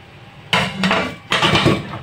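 Ingredients mixed in a bowl during home cooking of Filipino food, two bursts of clattering utensil-on-bowl scraping and knocking, close and loud.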